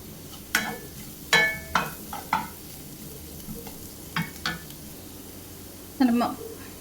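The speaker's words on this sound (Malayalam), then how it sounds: "1 മിനിറ്റ് ഇതെല്ലാം കൂടെ ഇളക്കി നമുക്ക് മൂപ്പിച്ചെടുക്കാം." Brinjal masala stirred and roasted in a pan, with a soft sizzle under intermittent scraping and clinking of a spoon against the pan, close up and irregular in rhythm.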